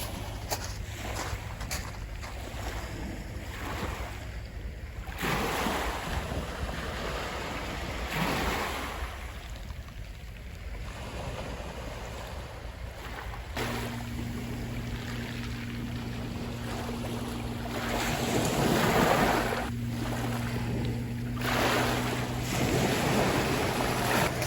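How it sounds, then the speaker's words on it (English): Calm sea lapping gently at the shore during British sea fishing, a steady soft wash of small waves with some wind noise and a faint low boat hum partway through. "There's something about the sound of a calm sea, so relaxing."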